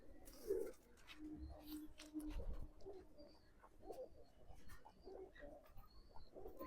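Domestic pigeons coo softly at a home loft, low repeated calls drifting in and out over faint background rustle.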